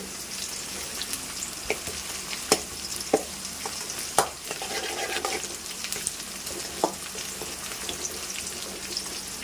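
Tomato rice tempering frying in a pan, a steady close sizzle broken by several sharp clinks and scrapes of stirring, with no voices over it.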